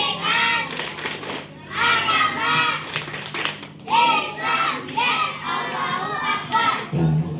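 Children at an elementary school Halal Bihalal gathering perform the Tepuk PAI clapping routine, bursts of clapping and chanting voices repeating in loud rhythmic phrases with short pauses between, a deep hum running underneath.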